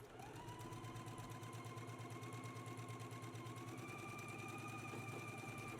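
Sewing machine stitching down the long edges of fabric loops for a summer top, a continuous steady motor whir with fast rhythmic needle clatter, faint but sustained throughout and alone without talk.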